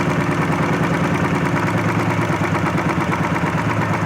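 A Royal Enfield Bullet single-cylinder engine idles steadily and close by, its low, even thump running throughout as the carburetor screw is turned to lower the RPM.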